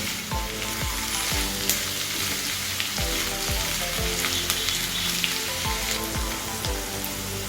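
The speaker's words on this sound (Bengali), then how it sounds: "এবার গ্যাসের ফ্লেমটা মিডিয়ামে রেখে ভালোভাবে চিচিঙ্গাটাকে ভেজে নেব।" Snake gourd sizzling and frying in a pan over a medium gas flame, a constant crackling hiss with repeated scraping strokes of a spatula stirring at a steady rhythm.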